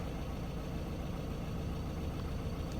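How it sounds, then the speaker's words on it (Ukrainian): A 2016 Ford Transit Custom van with a 2.2 diesel engine idles steadily, a dense, even low rumble with no talk over it. "автомобіль заводиться, працює гарненько, рівненько"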